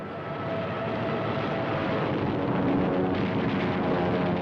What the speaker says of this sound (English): torpedo planes, bombers, and fighters come in for the kill